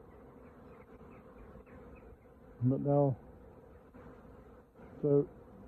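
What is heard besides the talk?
honeybees buzzing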